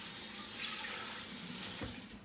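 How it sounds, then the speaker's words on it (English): Water running from a tap into a pot as a cup is added for cranberry raspberry relish, a steady broadband pour lasting about two seconds before cutting off, with no one speaking over it. "So what I'm gonna do is add a cup of water."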